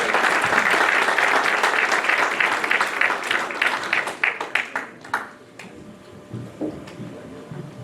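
Church congregation applauding loudly for a pastor at a surprise honour service, a dense burst of clapping that thins into scattered individual claps and fades.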